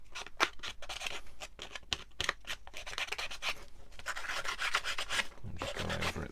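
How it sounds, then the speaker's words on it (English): An emery board rubbing and smoothing the edges of a wooden label box, with repeated quick rasping strokes in irregular bursts, close and fairly quiet, with no talk. "What I like about an emery board is it's just easier to use than a piece of sandpaper."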